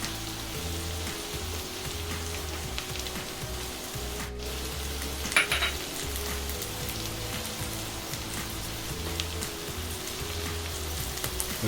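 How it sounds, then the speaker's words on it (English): Chopped garlic is added to onions cooking in a Dutch oven, giving a steady soft sizzle and crackle throughout with a brief clatter midway and no talking. "now we're going to add 2 cloves of chopped garlic"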